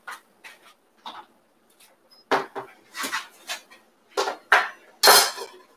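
Butter and onion go into a cooking pan for chicken curry with a run of close, sharp clatters and scrapes of a utensil against the pan. The hits are irregular and come in short separated bursts.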